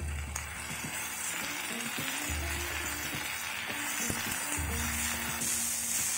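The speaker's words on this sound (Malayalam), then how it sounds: "നമുക്ക് അരിഞ്ഞ് വെച്ചിരിക്കുന്ന ക്യാപ്സിക്കം കൂടെ ചേർത്ത് നല്ല ഫ്ലെയിമിൽ തന്നെ വഴറ്റിയെടുക്കാം." Chopped capsicum sautéing in a pan over a high flame for an idli sizzler gives a steady, fairly soft sizzle with faint scraping stirs, close by and with no voices.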